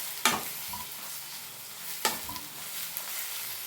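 Greens for mudakathan keerai dosa sautéing in a pan, a soft steady sizzle with two sharp stirring scrapes of a spatula, close and alone without talk.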